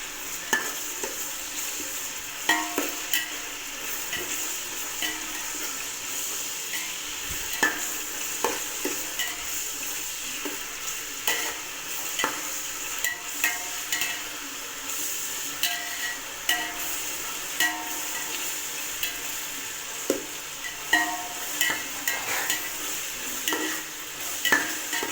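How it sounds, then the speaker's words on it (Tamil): Ginger garlic paste frying in a pan for mushroom biryani, with an even sizzle running throughout and frequent light clinks and scrapes of a spoon stirring it; no one speaks. "இஞ்சி பூண்டு பேஸ்ட் போட்டிருக்கோம். அது இந்த பச்சை வாசனை போகிற வரைக்கும் நல்லா ஃப்ரை பண்ணணும்"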